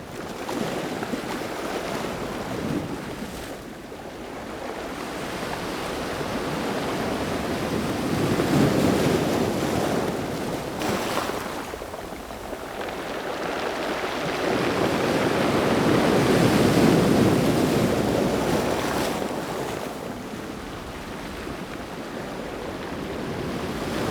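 Waves wash up onto a stony pebble beach in north Iceland, the microphone right at the water's edge; surf swells in broad loud surges with pebbles rattling and rolling back, no voices.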